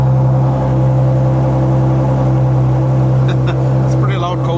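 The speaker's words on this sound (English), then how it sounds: "it's a pretty loud cold start" Loud 2016 Audi S4 engine idling high and steady just after a cold start, a constant deep drone throughout with brief voices cutting in near the end.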